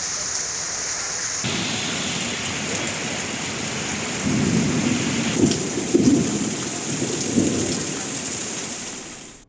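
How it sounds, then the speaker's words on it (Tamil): Heavy rain pours down steadily in Chengalpattu district, a dense continuous hiss, joined halfway through by rolling thunder rumbles that rise and crack loudly before fading. "செங்கல்பட்டு மாவட்டத்தில் கொட்டி தீர்த்த கனமழை"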